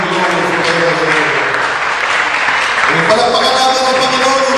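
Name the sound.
congregation applause in church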